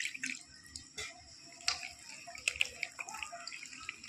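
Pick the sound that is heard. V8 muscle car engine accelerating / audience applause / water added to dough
water added to dough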